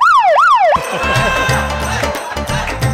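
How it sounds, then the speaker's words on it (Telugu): A loud electronic siren wails in rapid rising-and-falling sweeps, then cuts off into a noisy jumble of clatter and ringing tones. "ఇటు సైరన్ బాక్స్ తీసుకొని వచ్చాడు. అది మోగింది"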